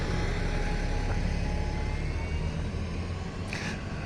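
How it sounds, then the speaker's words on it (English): Buses idle and move at the Beaverton Transit Center, a steady low engine rumble with broad traffic noise, fairly loud and continuous with no talking. "there's numerous buses coming and going, and numerous buses waiting as well"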